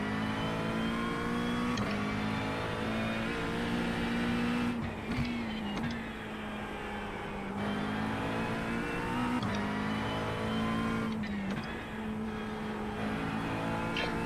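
A car drives the outlap of the Nürburgring Nordschleife, its engine droning steadily with rising and falling pitch through gear changes and brief dips in load, loud and continuous with no talking.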